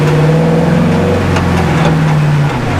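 A car engine revs hard in second gear during tight donuts, a loud, steady held drone whose pitch sags and climbs as the car circles, with no talking over it.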